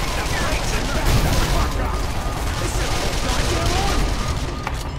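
In the video game Call of Juarez, Uzi fire rattles continuously into a car until it explodes, giving a dense, loud barrage of shots blended with heavy booming rumble.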